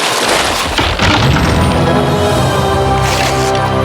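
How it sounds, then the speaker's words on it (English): An old, hollow, rotten tree crashes to the ground in the Jack Keane video game, a loud, dense rumbling crash that fills the whole few seconds with sustained broadband noise and no speech. "The tree has fallen."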